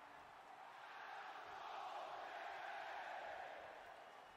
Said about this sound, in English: Whole crowd in Melbourne, Australia, chanting for Adam Cole